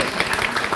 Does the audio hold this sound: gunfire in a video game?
no